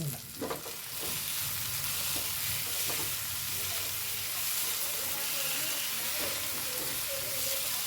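Egg fry with freshly added pepper powder is stirred in a hot pan, producing a loud continuous sizzle and hiss broken by repeated spatula scrapes and taps, with no talking.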